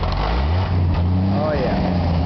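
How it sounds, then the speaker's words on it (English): A Hobart welding machine's engine catches and runs, a loud close rumbling drone with a low steady hum throughout and a brief rising whine partway through. "Get her to fire up here."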